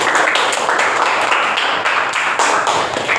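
Classroom applause from a group of students, brisk individual claps blending into a lively, close, fairly loud clatter that keeps going without talk.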